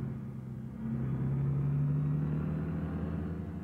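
A truck engine drones steadily while being driven in the video game BeamNG.drive, a low continuous rumble that swells slightly as it pulls, with no talking over it.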